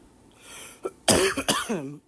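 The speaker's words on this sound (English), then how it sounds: "sorry for the coughing" A few harsh coughs and a throat clear, close up, in quick succession with brief pauses, followed by a short vocal sound.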